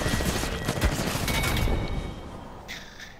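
Rapid gunfire from the Apex Legends video game, bursts of shots rattling for the first two seconds, then fading into softer game sounds and a brief clatter near the end.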